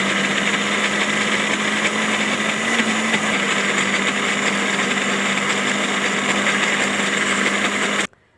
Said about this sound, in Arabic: بعد كده نحط حبة دقيق، ونشغل برضك الخلاط.